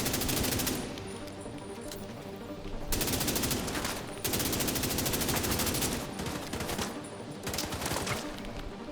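Gunfire in the video game The Division 2, loud sustained automatic bursts in rapid fusillades separated by brief pauses, close and dense with no talking over it.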